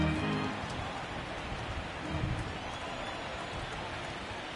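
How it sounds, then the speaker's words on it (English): Heavy rain pours down steadily at a baseball game, a dense even hiss with low rumbling that stays fairly faint and continuous, with no clear voices. "This isn't an easy sport to play in the rain."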